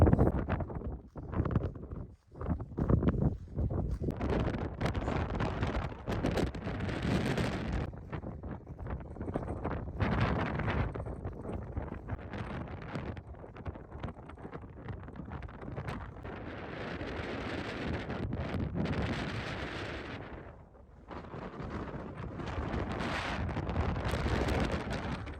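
Strong gusts of wind blow across a dried-up salt sea at Zabriskie Point, roaring and buffeting the microphone in uneven surges with brief lulls, no voices.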